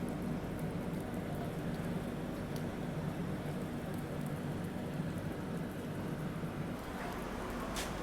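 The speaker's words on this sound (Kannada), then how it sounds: "ಮಳಿ ಭಾಳ ಜೋರು ಬರಾಕೈತೆ." Heavy rain falling outside a stopped Duronto Express train, a steady, dense hiss of drops drumming on surfaces, continuous and even throughout with no voices.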